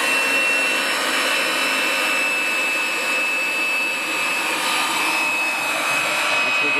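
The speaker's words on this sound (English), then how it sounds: "We're going to drop our threader down." A pipe threader cutting threads into a steel pipe produces a loud, steady, high-pitched mechanical whine and hiss that holds evenly from start to finish, close by.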